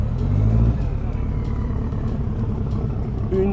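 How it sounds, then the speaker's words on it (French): A Renault 5 Turbo 2 engine rumbling loudly close by at a classic car meet, surging at the start and holding a strong throaty drone, with people talking faintly over it. "Mais là, la Turbo 2, elle fait un bruit de dingue."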